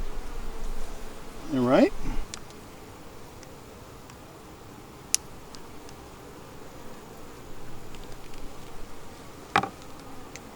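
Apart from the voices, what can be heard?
honey bees buzzing at hive during queen check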